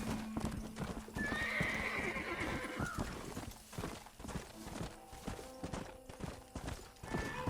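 Horse hooves clip-clopping at a gallop with loud neighing and whinnies in the Western video game Red Dead Redemption, close and continuous over a busy game soundscape.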